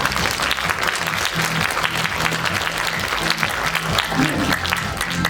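An audience applauds at a show staged as the birth of a star, sustained full-room clapping with a crowd murmur and a low musical backing underneath.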